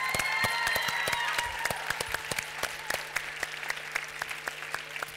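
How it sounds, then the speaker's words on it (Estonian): Audience applause for mentors at a youth program final, a broad wash of clapping with a few high whistles at the start, thinning into sparser, distinct claps toward the end. "Seega palun teeme kõik mentoritele ühe suure aplausi."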